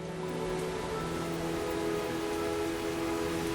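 Steady rain falls in southern Africa near the Volkberg, a dense, even hiss of drops on surfaces with no voices over it.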